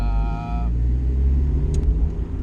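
A 1995 NA Mazda MX5 Miata's four-cylinder engine runs in a steady low rumble from inside the car, with a brief tonal whine fading in the first moment.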